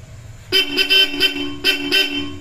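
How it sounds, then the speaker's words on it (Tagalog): A loud Bosch Europa car horn on a Hyundai Stargazer honks in several short blasts, two close together, a pause, then two more, with faint traffic noise underneath. "magkakatunog na kami ng busina ngayon"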